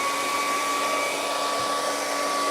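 A hair dryer blows steadily to dry the edge of wet paint along a line on a rocky cliff water scene painting, a constant close whirring rush with a high whine and no pauses.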